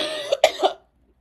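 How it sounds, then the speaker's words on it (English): Three quick harsh coughs come in a tight burst, close and clear, then silence. "Sorry if you hear me, my cough."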